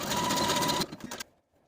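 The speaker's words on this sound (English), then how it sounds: "I'm going to overlap the two ends by about 1/2 inch and zigzag stitch back and forth to secure" Sewing machine zigzag stitching back and forth across overlapped elastic ends, a loud close steady whir that stops abruptly, followed by a few brief mechanical clicks.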